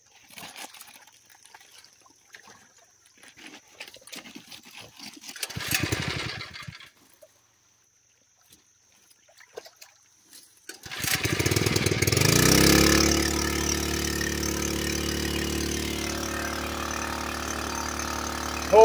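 A one-inch gold dredge on top of Vein Mountain starts with a few pull attempts, then its small engine fires and settles into a loud, steady running drone with water churning through, close by and continuing to the end.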